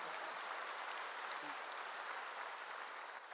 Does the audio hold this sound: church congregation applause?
yes